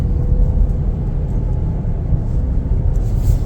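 A 2024 Chevrolet Blazer 2LT AWD on a test drive, heard from inside the cabin as a steady, loud low road rumble and engine hum with no speech.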